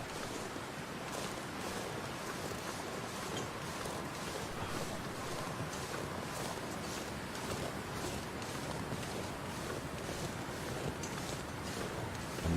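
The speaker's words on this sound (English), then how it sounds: "we can hear the waterfall from here" A waterfall in The Long Dark survival game gives a steady rushing wash of water noise, heard from some distance, unbroken and even for the whole stretch, with no voices.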